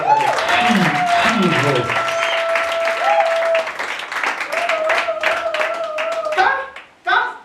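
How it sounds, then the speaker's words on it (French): A church congregation claps and cheers for Jesus, bright, sustained applause with a raised voice and tonal vocal sounds layered over it, loud and close before fading at the end. "Acclame pour Jésus."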